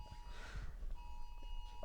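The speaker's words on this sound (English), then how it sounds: "I think it's an emergency alert." Emergency alert test tone from phones outdoors: faint steady beeping tones with a pause partway through, heard at a distance over low background rumble and no clear speech.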